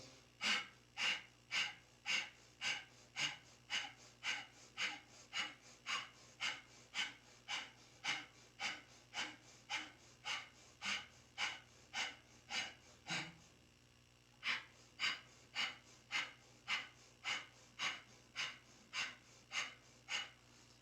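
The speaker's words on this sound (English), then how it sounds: "begin breath of fire, the rapid belly breath, using our navel to force the exhale out, and then automatic inhale, all breathing through the nose" Rapid rhythmic nasal breath of fire from kundalini yoga belly breathing, sharp forced exhales driven from the navel, about two per second, close and steady, with one brief pause near the middle before the pumping resumes.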